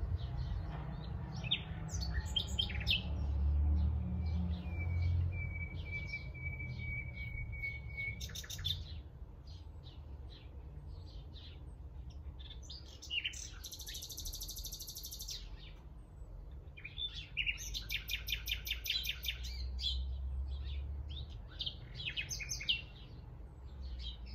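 Birds singing outdoors during a floor yoga session, several chirps, trills and tweets coming and going at a moderate distance over a low rumbling background, with no talking.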